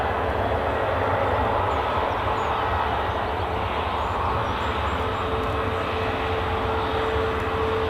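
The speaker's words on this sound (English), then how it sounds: "It's interesting watching this Ryanair taxi out of my peripheral vision." Ryanair airliner taxiing out at Edinburgh airport, a steady, moderately loud engine rumble and whine that holds evenly throughout with no talking.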